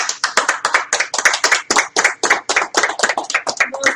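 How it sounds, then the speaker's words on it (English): Rapid, sharp hand claps ring out close and loud in a quick, fairly even rhythm, with no other sound around them. "Most amazing clapping ever"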